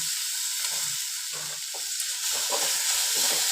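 Rice kurdai fry in hot oil with a continuous bright sizzle and hiss, close and steady, with soft bubbling and occasional low stirring knocks underneath.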